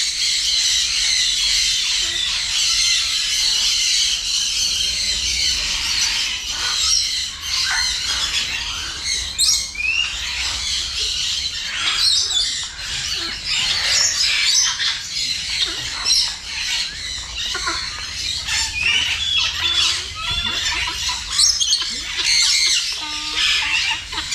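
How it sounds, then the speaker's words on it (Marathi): Dense, continuous squawking and calling from many birds fills an aviary at Essel World bird park in Mumbai, loud and layered with overlapping shrieks and occasional flapping, a little talk faintly beneath. "फक्त पक्ष्यांचाच आवाज आहे. झाडांवरती पक्षी, इकडे पक्षी, पूर्ण पक्षीच पक्षी."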